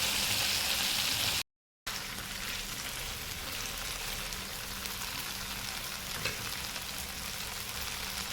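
Disco fish fries with masala on a hot tawa over medium flame, a steady close sizzle and crackle that runs almost unbroken, with a brief gap of silence early on and no talking.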